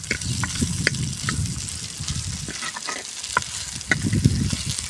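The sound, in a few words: onions and green chillies frying for sambar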